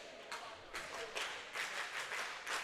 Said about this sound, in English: Mules fans clapping